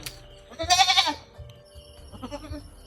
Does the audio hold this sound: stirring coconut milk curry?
no